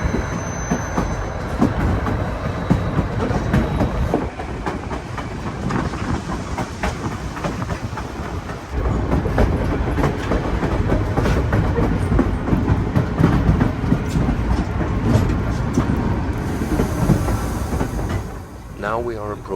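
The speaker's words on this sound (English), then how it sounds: "This is the side spur that we stop at on our return journey to allow the next train in the opposite direction to pass." White Pass Railroad train cars rolling on the tracks near Skagway, Alaska, with a steady loud rumble, wheel clatter and occasional high squeal throughout, heard from on board.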